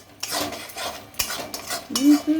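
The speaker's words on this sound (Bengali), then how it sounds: "সমস্ত মশলা এখানে আমি দিয়ে দিয়েছি দিয়ে নাড়তে চাড়তে হবে নাড়াতে হবে" Pointed gourd and prawn curry is stirred in a pan with uneven metal scrapes and clinks of the spoon, a faint sizzle underneath and a short squeaky scrape near the end.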